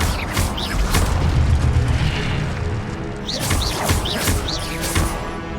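Spell-casting effects from a Harry Potter video game, with booming, crackling bursts in two clusters, the second with repeated whooshing flares, loud and continuous throughout.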